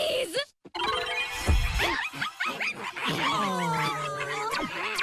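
Cartoon puppies yipping and whimpering with bright, squeaky barks, mixed under animated voices and music-like tones throughout.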